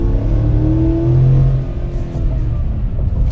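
A Ford Mustang's Coyote V8 revs up and eases off, a deep loud rumbling throttle swell heard close with no talking over it.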